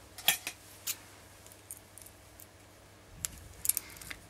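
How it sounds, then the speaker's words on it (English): Scissors snip beading thread at close range, a few sharp metallic clicks near the start and again toward the end, with quiet handling noises between. "I'm going to cut off my thread"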